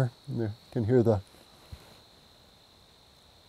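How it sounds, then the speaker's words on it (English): Crickets chirp steadily outdoors near a marsh, a thin continuous shrill trill running through the whole stretch; a person talks briefly over it at the start, then the chirping carries on alone. "Hear the crickets singing behind us."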